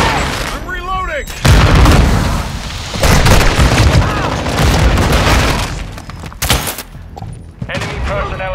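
Grenade blasts and gunfire in Call of Duty: Modern Warfare 2 during a Hardpoint match, several loud close booms and bursts of shots in an intense battle, with brief radio-like voices between.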